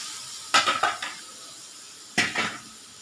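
Karatoli wild vegetable and onion being sautéed in a pan: two bursts of sizzling with scraping spatula strokes, a cluster of three or four quick stirs followed by a pause and then another brief pair, close and clear.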